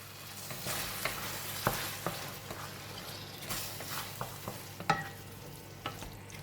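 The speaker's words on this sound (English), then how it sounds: "And I'm adding in the tomato." Chopped tomato added to a hot frying pan for tomato rice, a steady close sizzle with scattered pops and clinks of stirring, no talking.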